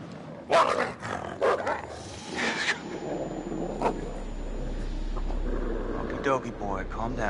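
A dog barks in the Until Dawn video game, a few sharp barks and growls near the start amid other game sounds, with a low rumble building underneath and speech present.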